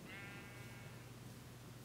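Sheep bleat in a Minecraft game world, a single drawn-out wavering bleat near the start over a steady low background hum.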